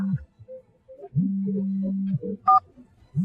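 A mobile phone rings for an incoming call, sounding a short melodic run of clear electronic tones close by, with pauses between phrases and no talking.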